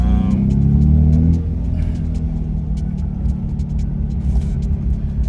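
A BMW M4 car on the road heard from inside, with a loud deep engine rumble and drone throughout and a drop in pitch after about a second, plus light ticking and road noise and no talking.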